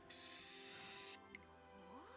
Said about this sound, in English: she's copiously spraying her legs with some substance